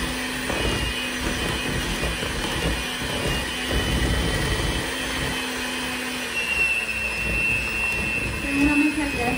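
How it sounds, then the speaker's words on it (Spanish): An electric mixer beats flour and eggs together for a carrot cake batter, giving a steady whirring drone that runs the whole time under a voice talking. "Vamos a empezar con la batidora a unir la harina con los huevos."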